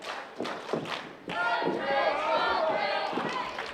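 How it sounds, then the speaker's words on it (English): A wrestling crowd at an independent pro wrestling show chants for Sharkbait, a mixed martial arts fighter, rhythmic voices rising together after a few thuds, loud and sustained over the arena. "Crowd chanting, "Let's go Sharkbait,""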